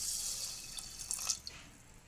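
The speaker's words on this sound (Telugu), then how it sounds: "దీనిని ఒకసారి వాష్ చేసుకోవాలి." Rice grains being washed in water in a pressure cooker, a soft continuous watery hiss with a few small splashes and drips, close and fairly quiet.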